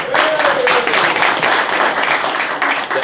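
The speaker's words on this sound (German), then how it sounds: "Ein kleiner Applaus für den Oellersmann." Dense applause from a crowd at a live show held in a pig barn, steady clapping filling the whole stretch at a lively, even level.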